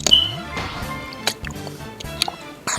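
Someone drinks water up close, with a sloshing pour at first and then a run of wet gulps, swallows and small clicks spaced irregularly in a quiet room.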